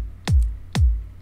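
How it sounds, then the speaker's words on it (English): Layered click samples from a music producer's bootleg project sound together as two sharp, punchy hits with a low thump tail, evenly spaced and alone. "So actually there are four clicks going together."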